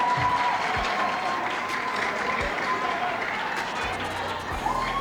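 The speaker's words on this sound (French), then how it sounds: "On applaudit." Students applaud at a high school quiz competition final, a loud continuous wash of clapping with crowd chatter and voices underneath, a few low thumps scattered through.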